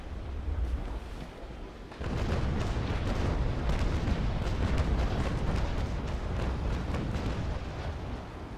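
Frigate cannon broadside firing in the naval combat game Naval Action: after about two seconds of lighter rumble, a loud, sustained roar of heavy cannon fire sets in and carries on with continuous booming to the end.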